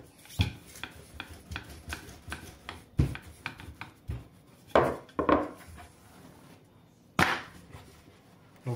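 A knife cutting and tapping through pain au chocolat dough on a board, a series of irregular sharp clicks and thuds, close and fairly crisp, with quiet pauses between strokes.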